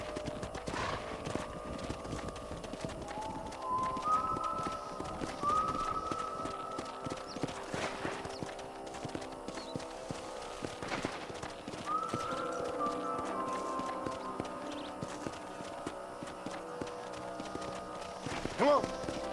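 Horse hooves clip-clop at a steady walking pace in the video game Red Dead Redemption, with a whinny or two and voices speaking over the scene.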